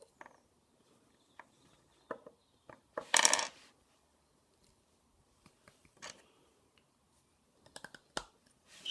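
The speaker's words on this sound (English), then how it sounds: "And you can just hear them rattling around a little bit." Small loose pieces rattle inside a Morgan briar tobacco pipe as it is turned, a scatter of faint clicks and taps with one brief louder burst of jostling, then more sparse ticks in an otherwise quiet room.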